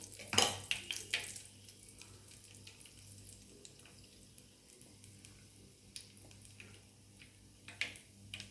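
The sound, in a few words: mustard seeds and urad dal spluttering in oil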